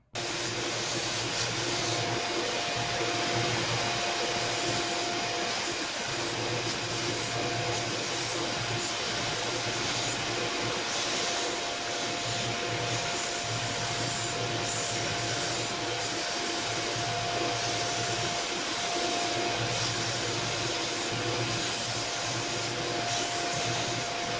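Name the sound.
sander shaping a tobacco pipe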